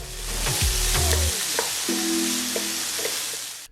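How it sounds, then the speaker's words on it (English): Sofrito, a Latin flavor base, sautéing in a pan, a steady close sizzle with clattering stirring and utensil scrapes, no talking. "Add 1 tablespoon of sofrito, which is a flavor base used in many Latin dishes. Saute an additional 30 seconds."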